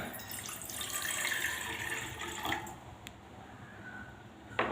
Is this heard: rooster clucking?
no